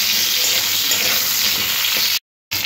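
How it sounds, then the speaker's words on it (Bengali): Sliced pointed gourd frying in oil gives a loud, close, steady sizzle that cuts to brief silence before resuming. "পটলগুলো একটু লাল লাল করে ভেজে নিতে হবে"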